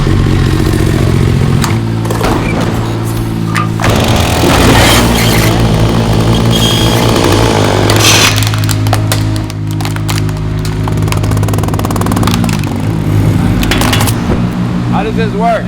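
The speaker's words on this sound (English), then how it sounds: "There's a generator in here that we're gonna have to fire up" A generator's small engine is pulled into life and keeps running loud and close, a rough continuous clattering drone that dips briefly partway through, with people talking over it.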